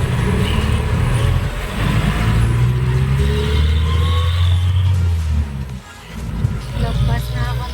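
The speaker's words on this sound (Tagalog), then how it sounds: "Ito matinding traffic dito sa Pilipinas." Heavy road traffic on a Philippine highway, with a continuous deep rumble of car, truck and bus engines, some revving and a brief hiss like an air brake. A voice talks over the traffic throughout.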